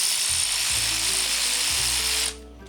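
A ratchet loosening the exhaust header brackets on a 2025 Triumph Bobber motorcycle gives steady, close-up mechanical clicking for over two seconds, then cuts off abruptly into quiet.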